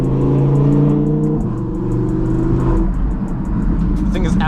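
A 1000 hp Audi R8 roars through a loud exhaust from inside the cabin, its engine note droning and stepping in pitch as it revs, with faint ticking and crackle on top.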